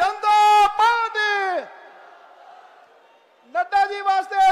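Political rally slogan for the Bharatiya Janata Party in Amritsar, with national president JP Nadda present: a leader's loud amplified shouts bracket a fainter, diffuse crowd response chanted back in the middle.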